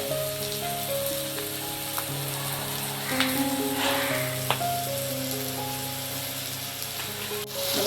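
Onion sautés in a pan with asafoetida and salt, a close, crackling sizzle with a few stirring scrapes and clinks, while a steady hum runs underneath.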